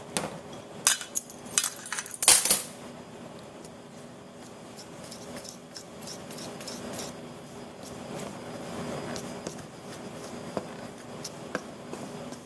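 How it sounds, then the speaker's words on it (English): A fork presses and clinks against a bowl while working through pie crust dough, with a few sharp metallic taps early on, then a long stretch of soft, muffled scraping. "I'm pressing through the dough with the fork"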